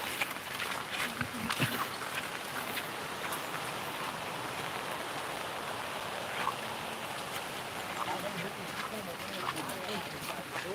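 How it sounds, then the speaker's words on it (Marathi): Continuous rain falls over a village in the Konkan, with the river in flood, producing a steady broadband hiss of drops on surfaces with a few brief knocks and no speech. "पाऊस लागतोय कंटिन्युअसली"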